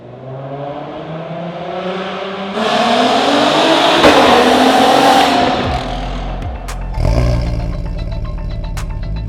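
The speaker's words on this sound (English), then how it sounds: "That exhaust note will just make your day all the better" A VW MK5 R32 engine revs hard, its exhaust note rising and swelling through a strong mid-clip surge, dropping back, then barking up again in a second shorter burst, loud and close with no talk.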